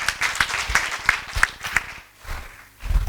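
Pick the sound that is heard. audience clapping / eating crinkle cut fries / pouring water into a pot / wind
audience clapping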